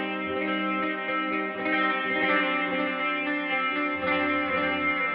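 Electric guitar run through a reverb plugin with its low frequencies cut, sustained ringing chords with a thin, bass-free wash and steady level, no talk.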